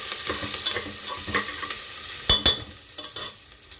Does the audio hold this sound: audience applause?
no